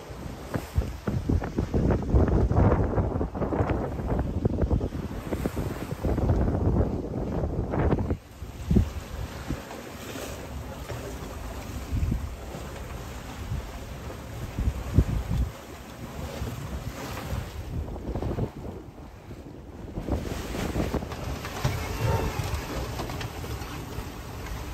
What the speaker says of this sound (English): Waves have gotten quite a bit bigger. We're heeling over a lot.